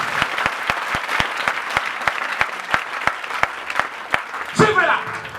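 A church congregation claps in steady, evenly spaced rhythm, sharp hand claps repeating for several seconds at moderate volume, with a brief burst of mixed voices and noise near the end.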